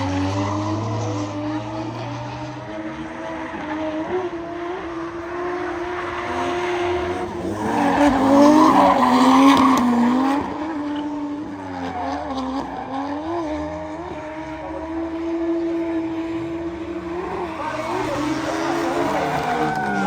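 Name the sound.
Toyota Mark II JZX100 drifting on a track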